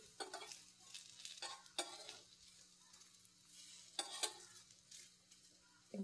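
Patrode, stuffed colocasia-leaf rolls, fry quietly in a pan, a soft low sizzle broken by a few sharp scraping bursts as the pieces are turned over.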